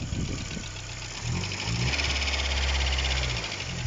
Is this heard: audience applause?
no